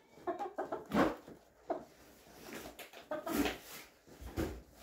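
Soft, scattered clucking from several chickens at a moderate distance, in short irregular bursts with quiet gaps between.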